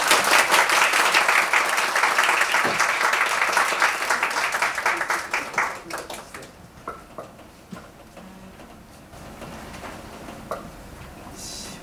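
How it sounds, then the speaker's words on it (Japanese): An audience at a lecture by a pediatrician claps to welcome the speaker: a dense, loud wave of applause that holds steady, then thins into scattered individual claps and dies away. "皆様拍手でお迎えください。"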